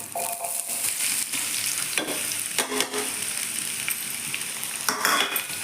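Chopped onions fry and sizzle steadily in a pan for an egg curry, with a continuous close crackle and occasional scrapes and clinks of a stirring utensil, no talking.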